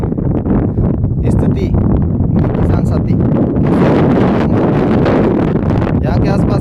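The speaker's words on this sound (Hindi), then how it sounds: "थोड़ी सी हवा चलते ही इस तरह से ये राख उड़कर किसानों के खेतों में जा रही है" Strong wind blows steadily across open farm fields near a thermal power plant, carrying fly ash, a loud continuous buffeting roar with rustling bursts and heavy gusting against the microphone.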